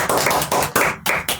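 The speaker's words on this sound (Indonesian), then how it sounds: "tepuk tangan dulu dong" A small group claps hands at an Indonesian church youth gathering, in short bursts of a few claps each, fairly close and loud, with brief gaps between bursts.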